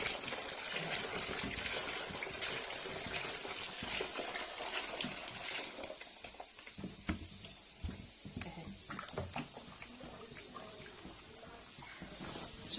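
Homemade liquid soap made from used oil, caustic soda, liquid soap and chlorine being stirred, giving a continuous watery sloshing with scattered small clinks and splashes, close by, with no one talking.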